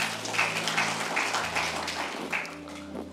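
A church congregation applauding: steady, moderately loud clapping from many hands over sustained low instrumental tones.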